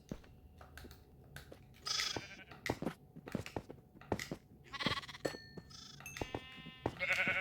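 Sheep in a video game bleat in a quick series of short, close calls, overlapping as more are spawned, with sharp clicks between them and no speech.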